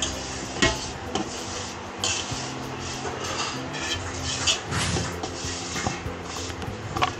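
A spoon scrapes and clatters against a metal pan as masala is stirred and flipped during Diwali snack cooking, a steady run of close scraping with sharper knocks of utensil on pan, no voices.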